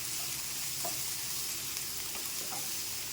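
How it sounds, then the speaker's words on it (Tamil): Onions sautéing in a pan for coriander chutney, a steady soft sizzle and frying hiss that holds evenly throughout with a few faint stirring clicks, no voices. "வெங்காயத்தை கொஞ்சம் வதக்குங்க."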